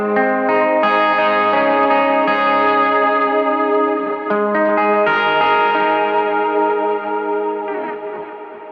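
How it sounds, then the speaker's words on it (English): Electric guitar runs through a pedalboard preset with a large plate reverb, so sustained chords swell and wash into a dense, shimmering tail. It plays loud and alone, with no talking. "I've got a bigger reverb on the red preset."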